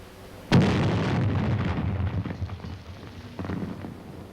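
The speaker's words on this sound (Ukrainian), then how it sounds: "Кинь до них гранату, нехай її поділять." A grenade detonates inside a dugout: one sudden heavy blast followed by a long rumbling, crackling decay that swells again near the end, with no voices.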